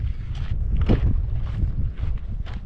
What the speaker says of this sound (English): very windy over here